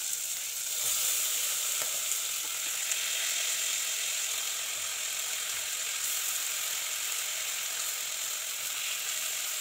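Rice fries in a pot with meat for pilau, making a loud, dense, continuous sizzle with a faint scraping stir early on and no talking.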